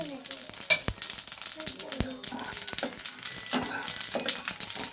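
Whole cumin, green cardamom, cinnamon and cloves frying in hot butter, with a close, continuous sizzle and crackle broken by sharp pops and stirring scrapes.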